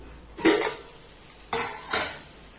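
A spoon scrapes and clinks against a pan as drumstick pieces are mixed with chili powder, two sharp metallic strikes each followed by a short scraping stir, close and without speech.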